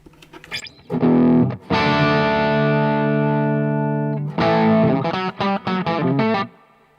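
A 335 electric guitar runs through distortion effects, playing a long sustained chord followed by a string of choppy, punchy strums, loud and close with no talking.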